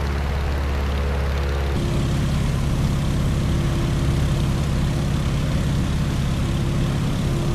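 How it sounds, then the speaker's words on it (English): Stearman biplane with an open cockpit in the Microsoft Flight game, its radial propeller engine droning steadily and loudly throughout, with a shift in tone early on and no talk. "here's where the Stearman really shines. It's a nice docile airplane with an open cockpit"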